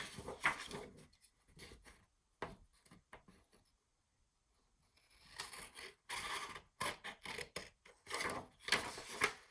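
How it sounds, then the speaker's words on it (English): Scissors cutting two boxes out of a single sheet of paper, rustling snips and rubbing in uneven bursts, close and fairly quiet, with a brief near-silent gap midway. "I'm going to go to the top and cut these 2 boxes out."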